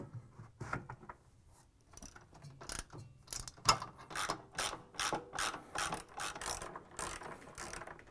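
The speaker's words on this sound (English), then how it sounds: "Now install the bottom counterweight and secure it with 3 13mm bolts." A ratchet tightens 13mm bolts on the counterweight of a Whirlpool front-load washer's outer tub, giving quick bursts of close, crisp clicking strokes with short pauses between them, no talk.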